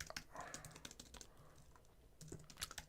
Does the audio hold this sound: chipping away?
no